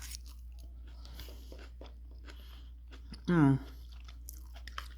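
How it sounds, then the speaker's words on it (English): Home-grown greens, cooked the day before, being eaten up close: soft biting and chewing with a brief hum of approval, over a steady low background hum. "eat these greens that I cooked yesterday"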